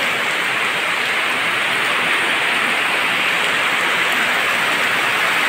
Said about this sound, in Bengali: ও ভাই, সেই জোরে বৃষ্টি হচ্ছে।